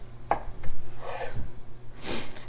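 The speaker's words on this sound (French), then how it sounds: "Ce serait un bon moment pour ajouter aussi un petit peu de poivre." A pepper grinder twisted over tofu in a home kitchen, a few short, close gritty grinding bursts with small pauses and no talking.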